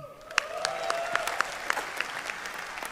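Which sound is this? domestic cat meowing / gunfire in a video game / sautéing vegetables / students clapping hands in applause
students clapping hands in applause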